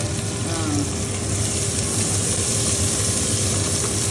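Large onions frying with whole spices in oil and ghee in a pot for vegetable biryani, a constant dense sizzle with a low steady hum underneath, fairly loud and even.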